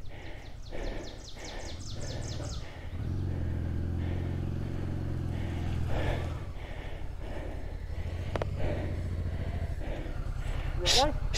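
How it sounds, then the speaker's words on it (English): A motorcycle stuck in a mud hole at the Smokey Mountain 1000 off-road ride starts up, its steady low engine drone running for a few seconds and returning later, partly under people's voices and outdoor noise. "Bike even started, got out of the hole."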